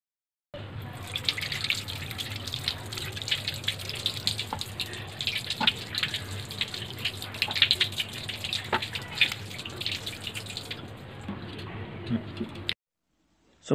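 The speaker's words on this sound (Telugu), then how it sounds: "మూడు బంగాళాదుంపలు తీసుకొని వాటిని శుభ్రంగా కడుక్కోవాలి." Three potatoes washed under a running kitchen tap, a steady close splash of water with scattered drips and clinks before the flow cuts off near the end.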